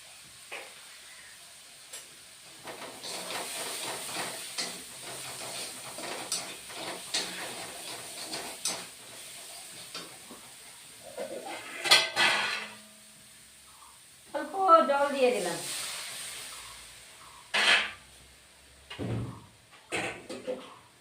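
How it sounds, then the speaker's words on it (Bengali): Ground spices including cumin powder sautéed and stirred in a pan for a dried-fish dish with pui shak seeds, a steady low hiss with scattered scraping and clinking, spoken words interrupting midway. "এবার মশলাটাকে কষিয়ে নিব"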